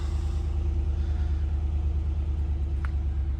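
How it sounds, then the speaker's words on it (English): A car idles as it warms up, a steady low rumbling engine drone that holds even and close throughout, with a faint brief click near the end. "Get the car warmed up."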